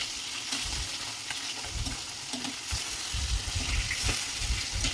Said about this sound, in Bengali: আমি এখন মাছটা বসাই দিছি